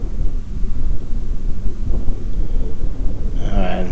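Strong wind buffeting the microphone on a golf course in Germany, a loud continuous low roaring gust noise, with a brief voice emerging near the end.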